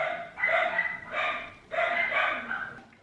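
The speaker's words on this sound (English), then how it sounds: "Just gonna wait for my dogs to be quiet" Several dogs bark nearby in a home, two pairs of loud, bright, yappy barks separated by a short gap, fading at the end.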